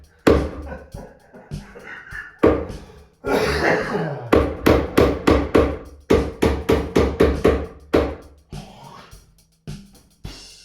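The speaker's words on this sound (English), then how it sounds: "You keep hammering it." Loud, repeated hammer blows ring out close by in quick runs of strikes, with short pauses between bursts and some scraping in between.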